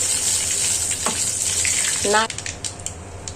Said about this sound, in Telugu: కరివేపాకు, ఎండుమిర్చి ఇవన్నీ మంచిగా ఫ్రై చేసుకొని తడక ఇచ్చేస్తే అయిపోతుంది.